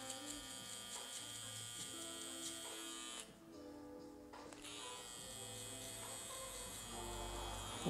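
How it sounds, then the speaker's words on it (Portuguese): An electric hair clipper hums steadily while cutting a mohawk fade, a close, continuous buzz that dips briefly partway through before resuming. "O zero dessa máquina é muito bom e dessa forma eu já posso vir com a shaver"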